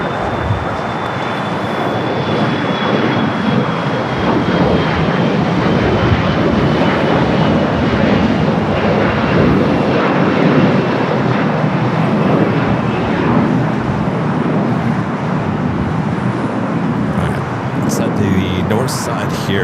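An Austrian Airlines airliner taxis toward the Tom Bradley gates at LAX with a loud, steady jet engine roar and whine, close and sustained throughout.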